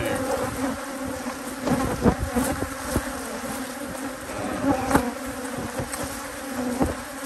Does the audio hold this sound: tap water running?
no